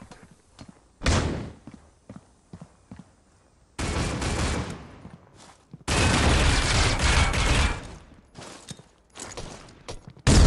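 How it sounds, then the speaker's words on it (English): Explosive bursts and gunfire crack through a Critical Ops round, with a flashbang grenade going off among loud, dense blasts and sharp shots separated by brief quiet gaps. "Flashbang"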